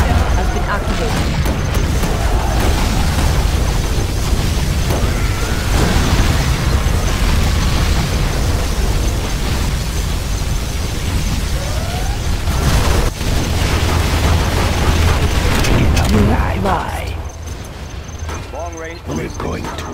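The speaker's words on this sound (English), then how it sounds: "Our particle cannon has been activated." A particle cannon blast erupts in the real-time strategy game Command & Conquer: Generals, a loud, sustained, rumbling explosion lasting most of the stretch before it tapers off, with game voices speaking over it.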